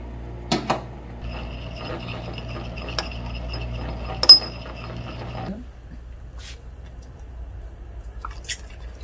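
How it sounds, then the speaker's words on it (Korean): A spoon stirs medicine into water in a glass, giving a few faint clinks and light scrapes over a low, quiet background hum. "잘 섞어줍니다"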